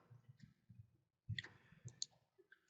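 Sharp computer mouse clicks while saving edits in a website editor, a few soft ticks early on and a brighter cluster of close clicks near the middle, quiet and isolated with no talking.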